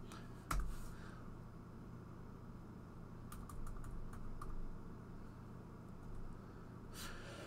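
Computer keyboard keys tapped in short, quiet bursts during command entry, faint clicks over a low steady background hum, with one sharper knock near the start.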